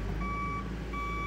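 A grading machine at work smoothing a yard sounds a steady electronic reversing alarm, two sustained beeps separated by a short gap over a constant loud engine drone.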